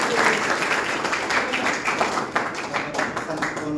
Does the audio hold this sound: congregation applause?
yes